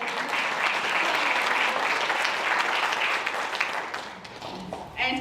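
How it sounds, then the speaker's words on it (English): A school gathering's audience applauds warmly, with dense clapping that fades toward the end as a voice begins speaking. "Let's give them a round of applause."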